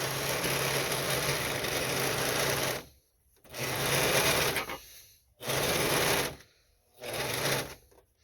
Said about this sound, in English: Now I do a serger, so when I've got that set, I just put it in and let it go.